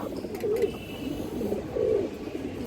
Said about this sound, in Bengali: এটা মাদি কবুতরটা